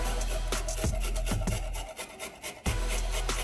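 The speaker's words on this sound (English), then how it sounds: "take the garlic and just grate it just like that" Garlic grated on a hand grater at a backyard barbecue, a series of close, loud rhythmic rasping strokes with a brief pause midway before the scraping resumes, no talking.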